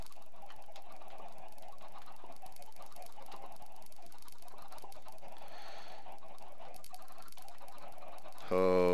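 Minecraft chickens clucking in a crowded farm pen, a steady jumble of overlapping game clucks running throughout at moderate level, with a brief louder burst near the end.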